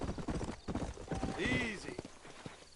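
A horse sets off at a walk in a video game, with its hooves clip-clopping in a steady rhythm, a short whinny partway through, and someone talking over the hoofbeats.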